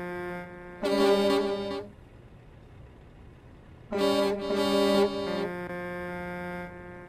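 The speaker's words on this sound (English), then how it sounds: "we're just going to do a horn check" Two blasts of a loud truck horn in a truck-driving video game, a short one followed by a longer, slightly broken one, with a low engine idle underneath.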